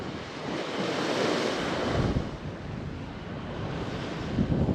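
Wind gusts buffet the microphone on the Cornish coast around Polperro and Polruan, a loud, continuous roar mixed with the wash of surf, swelling and easing without pause.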